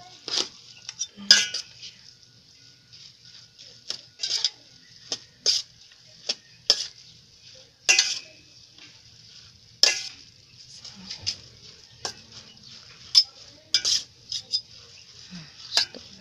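A utensil stirs palabok noodles with sauce in a pan, giving repeated light metallic clinks and scrapes at an uneven rhythm, close and fairly crisp, with no talking.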